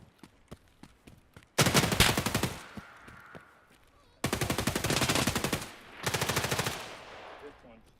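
Rapid automatic gunfire from the shooter game Escape from Tarkov rattles in loud sustained bursts, three long volleys separated by short pauses, with a few single shots before them.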